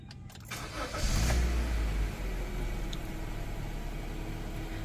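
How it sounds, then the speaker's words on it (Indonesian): A 2017 Honda Mobilio starts up with a short cranking burst, then settles into a steady, close idle hum that runs to the end. "Kita coba starter dulu"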